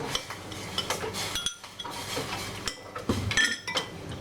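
Shrimp and mushroom salad with chicken tossed in a bowl, a busy run of close clinks and scrapes as a utensil mixes the ingredients, with no one speaking.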